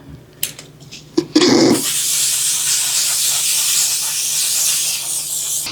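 A short burst of makeup setting spray from an aerosol hisses steadily for several seconds after a few light clicks and handling sounds, close and fairly loud.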